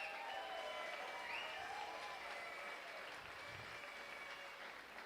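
Steady applause from a talent show finale audience, honoring the sound and tech crew, fills the whole stretch at an even, sustained level with a faint crowd murmur beneath and no speech.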